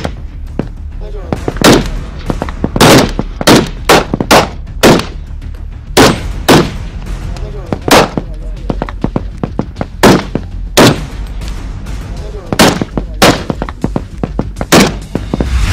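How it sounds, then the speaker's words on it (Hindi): Security forces fire guns during a night operation, producing loud, sharp shots in rapid irregular bursts and single cracks over about fifteen seconds. Some shots are very close and others slightly farther, with voices audible between them. "फायरिंग का सिलसिला तेज़ी से शुरू हो चुका है और हमारे जवान भी चारों तरफ से फायरिंग कर रहे हैं"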